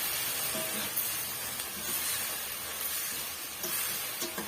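Lemon rice mixture sautéing in a pan, a soft steady sizzle and hiss with faint stirring scrapes, quiet and continuous, no voices.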